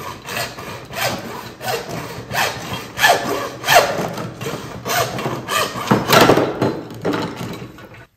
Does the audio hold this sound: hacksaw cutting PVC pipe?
yes